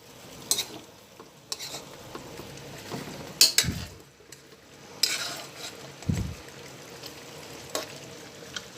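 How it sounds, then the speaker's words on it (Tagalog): Sinantomas, a Quezon-style dish, is stirred in a pan with a utensil, giving a few sharp clinks and scrapes spread out over a low background, with short heavier knocks in between and no speech. "Paluan lang ulit natin"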